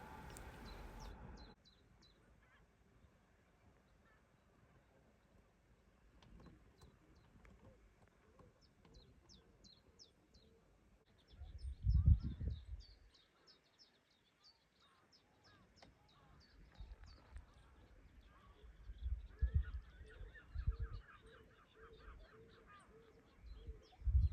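At Ludham Bridge on the Norfolk Broads, a mother duck with four ducklings gives faint, scattered quacks, mixed with brief high chirps and intermittent low bumps and water noise at close range.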